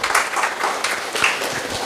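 Members at a cooperative society's annual general meeting clap together in a short burst of applause, a dense patter of many hands in a room.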